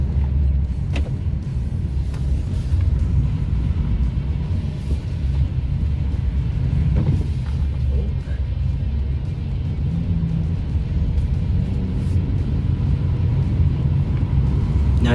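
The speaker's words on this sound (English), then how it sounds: "this is the EcoBoost engine noise" A Ford Maverick with the EcoBoost engine drones steadily while driving, a loud, constant low rumble of engine and road noise inside the cabin with faint creaks.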